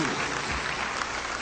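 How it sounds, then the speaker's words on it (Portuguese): A Portuguese-speaking congregation at a faith course gives a strong round of applause to the Lord, a dense, even roar of clapping that holds steady throughout. "vamos fazer esse início dando para o nosso Senhor uma linda e poderosa salva"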